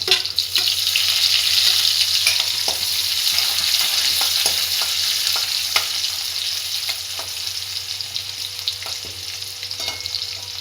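Cumin, onion and curry leaves frying in a hot pan of oil while cooking bitter gourd sabzi, giving a steady, close sizzle with scattered clicks and scrapes of stirring throughout.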